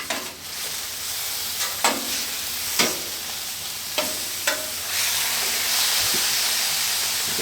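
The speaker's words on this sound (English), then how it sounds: "You can hear it sizzling." Steak sizzles steadily on a hot griddle on a Weber grill, a constant frying hiss punctuated by a few scraping clanks of a spatula.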